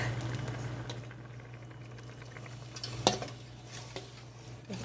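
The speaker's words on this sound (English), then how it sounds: "So at this point we can add the yogurt mixture to the soup." Quiet stirring of a yogurt mixture into a pot of soup for Armenian madzoonov kyufteh (kibbeh labanieh), soft scraping and liquid movement over a low simmering hum, with a couple of light utensil knocks against the pot.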